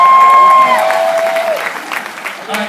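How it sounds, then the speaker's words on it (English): A crowd at a Denver event breaks into loud, close applause that fades slowly, with a whistle-like tone sliding downward over the clapping. "Give him a round of applause"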